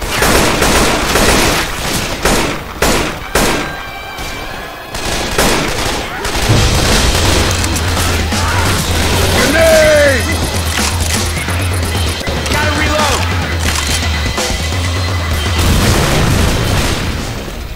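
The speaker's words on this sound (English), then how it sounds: "Grenade launcher." Grenade launcher blasts in the PC video game Left 4 Dead 2 crash in a loud, rapid cluster of booms over the first six seconds, then give way to a steady droning game soundscape with some talk.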